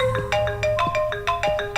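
A mobile phone ringtone plays a bright, repeating electronic melody of short tones, loud and close, with no talking.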